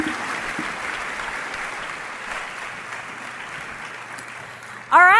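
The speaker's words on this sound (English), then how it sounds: "let's give a round of applause to Dr. Jamie McManus and Jackie" A crowd applauds Dr. Jamie McManus and Jackie at a Shaklee event, steady moderately loud clapping for about five seconds before a voice cuts in at the end.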